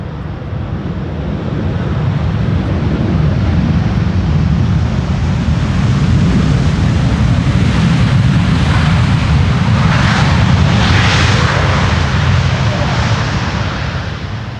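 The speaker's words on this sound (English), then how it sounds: "let's first watch the landing of Delta Airlines Flight 144 and that of KLM Flight 622" Airliners, a Delta Airlines flight and a KLM flight close behind, landing in crosswind on the Polderbaan runway at Amsterdam Schiphol, a loud, steady jet roar with heavy wind buffeting that holds for the whole stretch.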